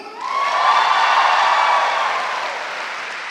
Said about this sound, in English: Now I'm going to say something and I want to measure audience applause level.